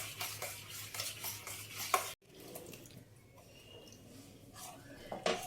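A spoon stirs milk powder into milk in a pot for chhanar payesh, a close wet scraping and swirling that stops abruptly midway, followed by quieter bubbling and a faint clink.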